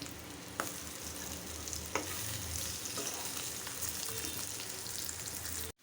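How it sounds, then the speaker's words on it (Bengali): Taro (kochu) fries in a pan with a constant close sizzle and crackle, a couple of sharp clinks from stirring, then stops abruptly at the end. "এখন কচু মাছ কচুটা ভাজবো তারপর ভোনা করব"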